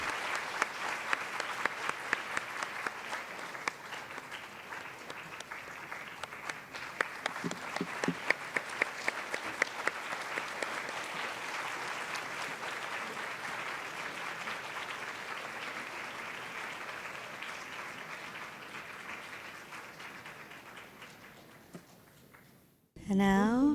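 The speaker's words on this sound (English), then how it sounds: "see Prime Minister recede from this venue with a big round of applause" A conference audience applauds in a large hall as the Prime Minister leaves the venue, with sustained, dense clapping that fades gradually over about twenty seconds before a voice begins speaking at the very end.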